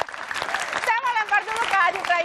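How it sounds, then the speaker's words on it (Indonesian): Studio audience applauding on an Indonesian political TV talk show, a steady burst of clapping throughout with a voice speaking over it. "Oke, tepuk tangan dulu dong."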